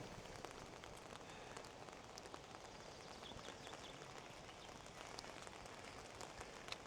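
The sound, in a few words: heavy continuous rain outside Peles Castle, Sinaia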